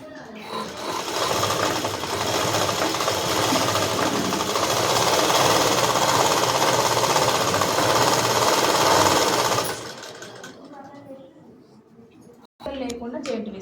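A sewing machine stitches the folded hem of a blouse front panel with lining, running steadily and loudly for about ten seconds, then stopping as quieter handling noises and a brief pause follow.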